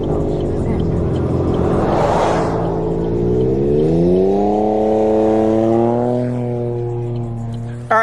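Exhaust of a Can-Am Ryker 900 three-wheeler on the freeway, a loud droning engine note that swells as it passes, then rises and falls through shifts as the ride goes on, with wind rushing in the background.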